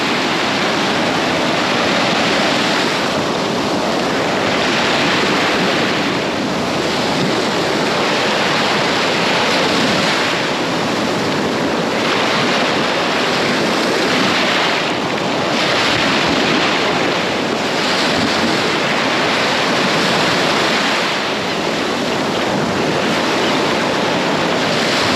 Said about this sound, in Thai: เบิ่งบรรยากาศทะเลฟอง